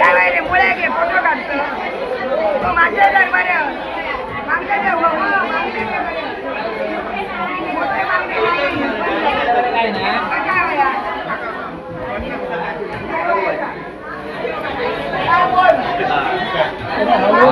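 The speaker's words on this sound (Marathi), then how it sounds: "अकरा वाजले आहेत गर्दी सुरू झाली" Dense crowd chatter fills a busy weekly village market in Katta, Malvan, selling local vegetables and fish, with many overlapping voices at a steady, loud level throughout.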